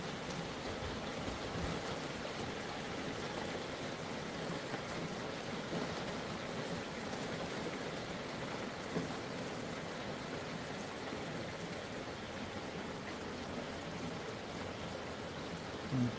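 Light drizzling rain falling steadily outdoors, a soft continuous hiss with broadband patter that holds an even level throughout, with no voices.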